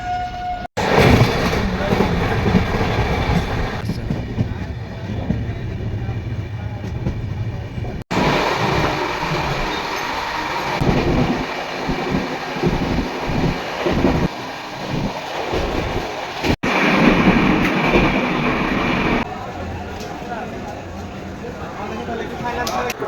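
The Shipra Express passenger train runs along the rails with a steady rumble and wind buffeting, the roar shifting in intensity over the stretch while voices talk near the microphone.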